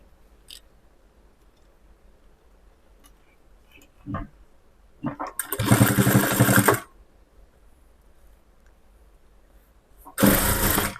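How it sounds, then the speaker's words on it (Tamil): Sewing machine stitching a folded half-inch hem on a lining blouse, two loud close bursts of fast needle hum about a second each, separated by quiet handling ticks and pauses. "இப்போ இதில் தையல் போட்டுக்கலாம்"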